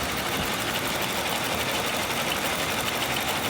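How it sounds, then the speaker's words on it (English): An IBM 1401 computer loads a program with a dense, steady mechanical clatter and hum, a continuous rapid chattering that fills the space evenly at moderate loudness, with no voices. "All right, we're loading the program into the machine."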